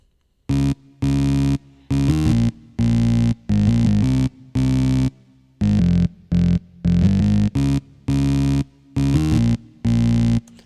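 A gritty, crunchy bass tone built from a sample run through a bass amp with some gain, boosted low EQ and a compressor plays a choppy riff of loud, abrupt notes separated by brief silences, with no talking.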